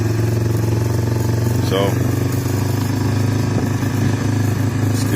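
A motorcycle engine runs steadily close by with a constant droning idle on a cattle farm, while a voice briefly speaks over it.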